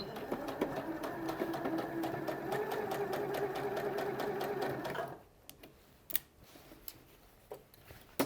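A sewing machine stitches elastic casing along a strap, running in a steady, fast whirring chatter for about five seconds before stopping, followed by a few faint clicks and taps.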